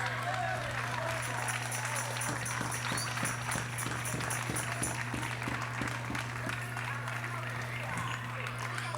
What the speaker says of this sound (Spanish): Fuertes palmas al nombre de Jesús.